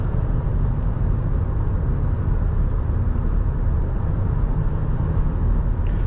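A Fiat Doblo with a 1.6 Multijet diesel engine, 105 HP, drives on winter tires. Its cabin fills with a constant low engine drone and road rumble, steady and unbroken.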